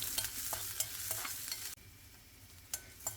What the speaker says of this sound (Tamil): சேர்த்துட்டு இதை இப்போ நல்லா வதக்கிக்கலாம்.